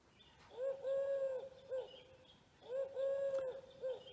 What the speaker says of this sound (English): It's a pigeon, I think. A wood pigeon.